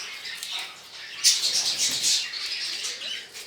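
Pigeons kept in a loft give brief, soft chirps and squawks with a rustle that may be wing flapping, close by and fairly quiet, over a steady hiss.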